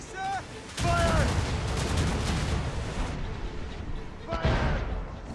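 Ship cannons fire in broadside volleys during a naval battle in Assassin's Creed Rogue, rumbling blasts that come in bursts while crew members shout over the gunfire.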